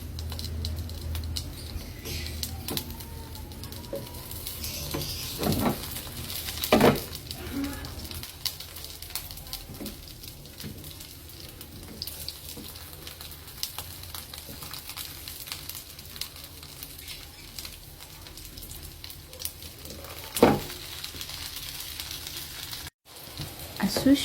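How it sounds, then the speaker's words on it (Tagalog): Eggplant sizzles steadily in a small amount of cooking oil in a pan, a continuous close crackle with occasional louder pops and spatters, with no voice over it. "isasalang ko muna yung talong at saka pipituhin ko siya kunti"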